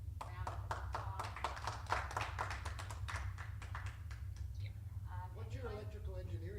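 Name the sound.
applause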